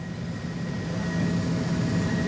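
A rented helicopter flies over Rio de Janeiro with a steady, loud, droning rumble of engine and rotor, heard from inside or close by, continuous and unbroken throughout.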